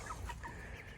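A chicken in a backyard coop gives soft, repeated clucks, close by and steady, with no talk over them.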